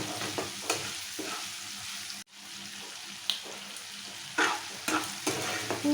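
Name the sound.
stirring onions and salt frying in a pan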